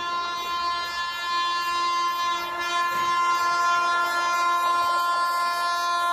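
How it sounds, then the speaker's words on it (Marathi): The Harangul–Pune Express, hauled by two WAG-9 electric locomotives, rumbles steadily past with a sustained, harmonic horn-like tone throughout, loud and close, with no voices. "आता ही समोरून हरंगुळ पुणे एक्सप्रेस जी डेली धावते ती गाडी आपल्याला या ठिकाणी क्रॉस"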